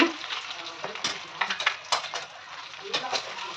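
Masala-coated eggs frying in oil in a pan, a steady sizzle broken by irregular scraping and clinking as a utensil stirs against the metal. A voice talks over the cooking sounds.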